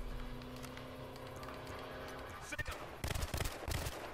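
A FAMAS assault rifle in Battlefield Hardline opens up near the end as rapid, fast-rate bursts of automatic fire. The shots come after a quieter stretch of background game ambience, and no voice is heard.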